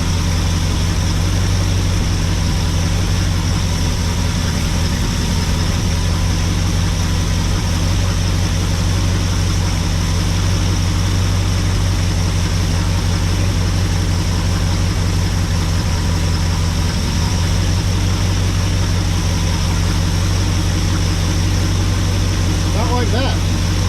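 A 1974 Ford Dentside truck with a big block 390 FE engine idling roughly after timing and mixture adjustment, a loud continuous low rumble close by with steady unchanging drone throughout.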